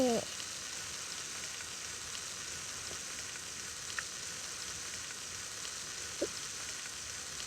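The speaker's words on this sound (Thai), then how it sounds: "เต็กดีกว่าสเต็กทอดก่อน" Steak frying in the Toca Life World game, a steady even sizzle with faint crackle that runs the whole time, with a couple of small game clicks above it.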